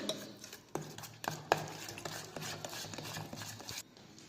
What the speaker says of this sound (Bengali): এবার এর মধ্যে দুধ দিয়ে একটা ব্যাটারের মতো বানিয়ে নেব অল্প অল্প করে দুধ দিয়ে ব্যাটারের মতো বানিয়ে নেবো